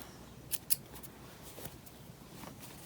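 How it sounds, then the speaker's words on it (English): Small thread snips close twice in quick succession, cutting loose threads off a sewn buttonhole on a terry towel, giving faint crisp clicks against a quiet room. "I just take some little snips and snip them off"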